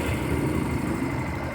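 A Honda Crosser, Factor or Fazer 150 motorcycle engine with a faulty stator idles with a continuous rough, grinding drone resembling a bad bearing, close and steady throughout.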